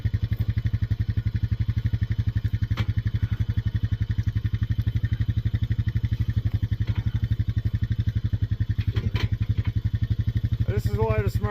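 A quad bike engine runs steadily and close by with a dense, even throb and some rattling clatter; a voice cuts in briefly near the end.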